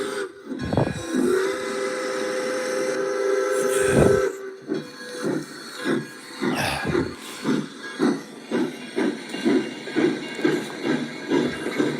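A train sound effect plays alone at moderate loudness: a long steam whistle tone runs for several seconds with hissing, then gives way to a steady rhythmic chuffing of repeated rail beats.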